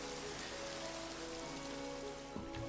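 Steady rain falling in the farming video game Farming Valley, a dense, even patter that continues unbroken at moderate level with no voices.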